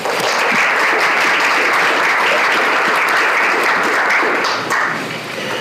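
A medical grand rounds audience claps to welcome a speaker, dense sustained applause filling the room throughout and easing slightly at the end, no voices over it.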